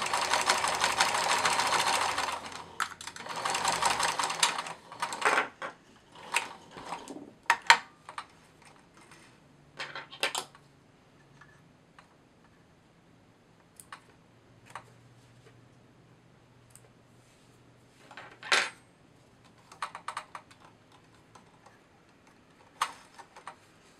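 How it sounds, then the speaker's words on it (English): A sewing machine stitches a plush otter seam in a dense opening burst, then sounds in brief scattered runs of stitches and clicks separated by quiet gaps, fairly soft and close. "stitch in a few stitches and back stitch, and then come all the way across."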